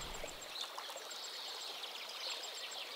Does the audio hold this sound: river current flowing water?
yes